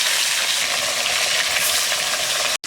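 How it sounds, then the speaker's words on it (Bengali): Pieces of rohu fish sizzle and spit in hot oil in a village kitchen pan, a loud, continuous crackling hiss that cuts out abruptly near the end. "তেল গরম হয়ে গেছে, মাছগুলো দিয়ে দিচ্ছি।"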